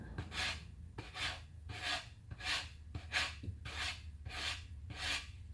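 Coarse 80 grit sandpaper rasps over the edges of a hand-carved wooden rabbit in steady back-and-forth strokes, about nine close, rhythmic scrubbing passes in a row.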